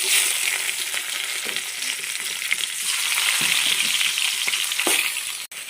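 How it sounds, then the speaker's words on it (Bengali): Pangas fish frying in hot oil in a pan, a loud close sizzle and crackle that holds steady throughout, with a few stirring knocks and no talk. "তেল গরম হয়ে গেছে, এখন মাছ উঠাই দেবো।"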